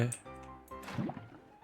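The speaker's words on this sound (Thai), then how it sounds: "ใส่ ลาวาไป" A bucket of lava or water is poured in the Minecraft video game. It makes a brief, soft liquid gurgle and splash lasting barely over a second.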